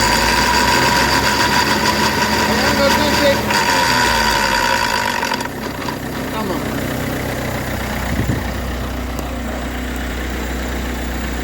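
A car engine runs loud and close as it is revved with the steering turned fully left, on a car with a faulty left CV joint, rumbling and droning throughout, its tone shifting midway as the revs drop to a steadier idle-like hum.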